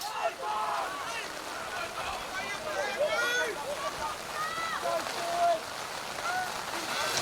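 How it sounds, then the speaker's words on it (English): Heavy, persistent rain driving sideways over a Premiership football match between the Joondalup Giants and Rockingham Sharks, a steady hiss beneath the excited voice of a commentator and distant crowd noise. "As the rain persists, coming in sideways."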